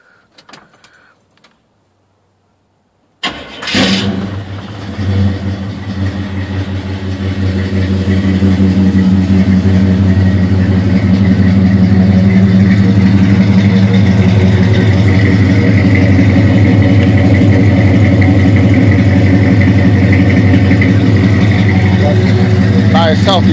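A 1971 Chevrolet Chevelle's engine cranks and fires after a short quiet pause. It then settles into a loud, deep, steady idle heard close up, with a rich low rumble that continues to the end.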